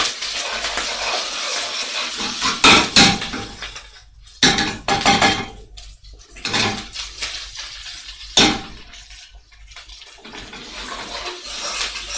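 Chicken chilli frying in a pan and being stirred a few times, with clattering metal scrapes and knocks against the pan over a soft sizzle, loud bursts separated by quieter gaps.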